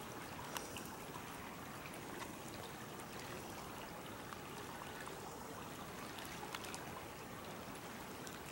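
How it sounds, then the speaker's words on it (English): Rippling waterfalls and a stream along a river trail among bluffs and trees at Honey Creek, a steady broadband wash of flowing water with faint trickles, continuous and even throughout, with no voices. "More bluffs, more trees, more rippling waterfalls."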